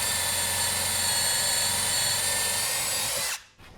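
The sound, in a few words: drilling pocket holes with a pocket hole jig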